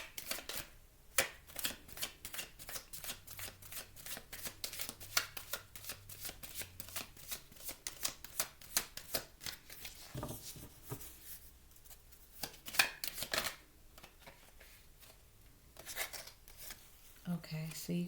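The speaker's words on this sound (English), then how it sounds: "I'm going to pull one more card" Tarot cards shuffled by hand in a steady run of crisp riffling and sliding slaps, close and fairly quiet, ending with a card drawn from the deck, with a voice speaking faintly at times.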